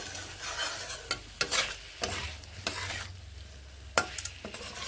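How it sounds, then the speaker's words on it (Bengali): Drumstick curry being stirred and fried in a pan after the lid comes off, with a constant sizzle punctuated by repeated sharp scrapes and knocks of the spoon at irregular intervals. "ঢাকা খুলে এবার নেড়ে নিচ্ছি, বেশ ভালোভাবে আরও একটুখানি কষিয়ে নিচ্ছি"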